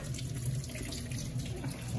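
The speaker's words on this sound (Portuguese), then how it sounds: "vou passar um pouquinho de água" Water running steadily from a household kitchen tap, a close continuous splashing hiss with no talk.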